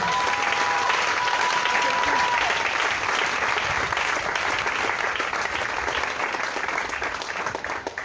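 A church congregation applauding to acclaim the Lord, loud sustained clapping from many hands that fades slightly toward the end, with voices mixed in.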